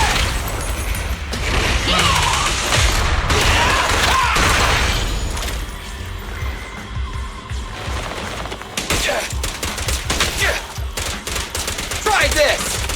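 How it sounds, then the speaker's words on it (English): Gunfire in Zenless Zone Zero, loud bursts of rapid shots and mechanical clatter mixed with booming impacts, dense at the start, thinning in the middle, then returning in sharp flurries; brief character voices break in. "I'll handle him. I've got plenty of bullets!"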